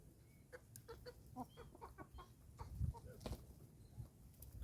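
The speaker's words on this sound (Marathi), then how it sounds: "कोंबड्या भांडण करतात" Roosters squabbling in a yard, giving a run of short, scattered clucks and squawks at moderate distance, with low rustling and background noise between calls.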